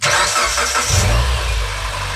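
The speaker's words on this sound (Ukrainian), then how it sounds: "запускаємо авто, прогріваємо" A 2009 Mitsubishi Lancer X CY4A cranks and catches, then settles into a steady idle. The start is close and loud against a broadband hiss, and nobody speaks.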